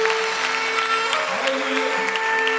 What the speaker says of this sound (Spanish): Dale esa prueba de palmas al Señor.